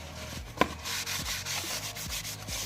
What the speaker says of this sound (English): see how it's kind of scraping off the paper, like sanding it off